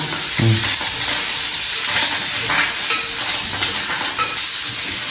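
Okra, also called ladies' finger, frying in a pan as food is cooked for a fasting meal, giving a steady close sizzle and hiss with a few stirring scrapes, heard alone without talk.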